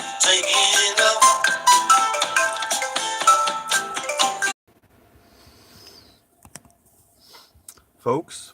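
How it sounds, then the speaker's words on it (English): A phone rings with an incoming call inside an old VW bus, a loud bright melodic ringtone playing for several seconds before cutting off into near silence and a few faint clicks. "I got another phone call"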